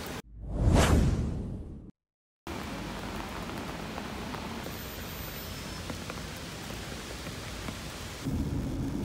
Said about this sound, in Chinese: 今天虽然下了大雨